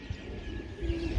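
A golden pigeon kept by a breeder gives a short, soft coo nearby, with a faint low hum in the background.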